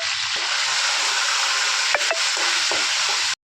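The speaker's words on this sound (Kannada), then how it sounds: "ಎಣ್ಣೆ ಬಿಸಿ ಆದ ಕೂಡಲೇ ಸ್ವಲ್ಪ ಸಾಸಿವೆ ಸ್ವಲ್ಪ ಜೀರಿಗೆ ಸ್ವಲ್ಪ ಕರಿಬೇವು" Mustard seeds, cumin and curry leaves sizzle in hot oil for a village-style greens stir-fry, a loud, steady close-up hiss with a couple of brief clinks of a spoon against the pan before it cuts off.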